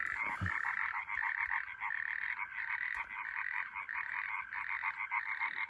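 A water frog croaks in a rapid, pulsing trill that repeats in quick bursts, fairly close and clear, with no voices, in France.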